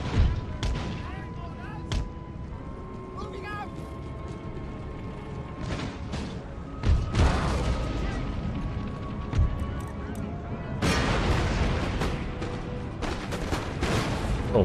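Cannons firing canister shot in Empire: Total War boom amid a busy battlefield din of crackling musketry, mechanical clatter and scattered blasts, with a heavy volley bursting out near the end.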